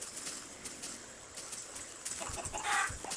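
Chickens in Minecraft cluck softly in short, scattered clucks, faint and close against a steady low background hiss.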